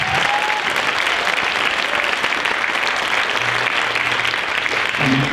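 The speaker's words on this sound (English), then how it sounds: "I'd like to give one more round of applause for our performances in between groups." An audience at a school band's winter concert applauds in a sustained, dense wash of clapping that holds steady throughout, with a faint voice briefly audible beneath.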